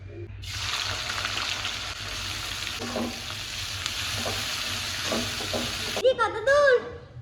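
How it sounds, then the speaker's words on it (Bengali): Steady bright sizzle of onions frying in hot white oil in a kadai, with occasional stirring scrapes, then it cuts off and a few short clatters follow. "এই তো বেরেস্তা ভাজছি"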